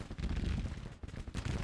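Heavy booming gunfire from Civil War artillery in a strategy video game, a dense continuous barrage of loud low thuds rolling one into the next across the whole stretch with no pause.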